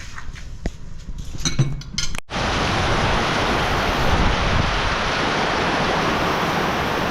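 Strong wind roars steadily into the microphone, a dense continuous rush after a brief moment of lighter outdoor noise.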